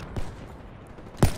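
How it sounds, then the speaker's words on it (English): Two separate shotgun blasts in Call of Duty: Black Ops 3, one faint early and one louder and sharper about a second later, over a low murmur of background game noise. "we're getting shotgunned by another side"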